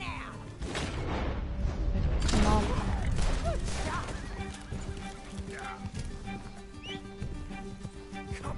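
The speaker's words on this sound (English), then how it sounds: "It's Freddy's horse." Horse hooves clip-clopping in Red Dead Redemption 2, a steady rhythm of hoof falls on the ground running through the whole passage, with a neigh or whinny and game sounds layered on top.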